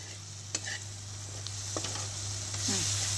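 A tadka of spices and oil sizzles in a pan while khichdi is being made, giving a soft, steady frying hiss with a few light clinks and stirring noises over a low hum.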